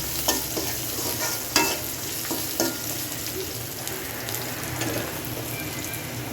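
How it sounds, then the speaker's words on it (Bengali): Browned onion masala with salt being stirred in a pan for a rohu fish head dish: a steady sizzle with scraping and several knocks from the spoon, up close and without speech. "1 চা চামচ জিরার গুঁড়া দিয়ে মশলাটা একটু কষায় নিলাম।"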